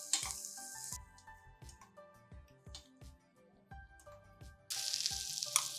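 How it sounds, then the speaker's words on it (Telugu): Pumpkin pieces sizzle in ghee, with loud bursts of frying at the start and again near the end and melodic instrumental music playing throughout. "గుమ్మడి ముక్కలు కొంచెం వేగితే చాలండి, కాస్త నేతి వాసన వచ్చేదాకా."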